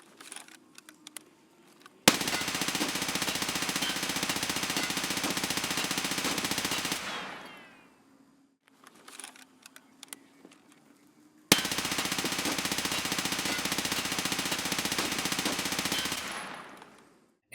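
An MCX .300 Blackout rifle with a three-part muzzle brake fires in Escape from Tarkov. Two long, loud, sustained bursts of automatic fire each run several seconds, separated by quieter clicks and handling noises.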